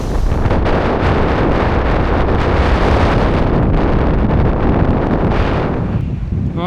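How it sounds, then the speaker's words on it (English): Strong, ferocious wind blasts across the microphone during an outdoor bike ride, a loud, continuous roaring buffet that barely lets up and only eases slightly near the end. "The wind is pretty ferocious."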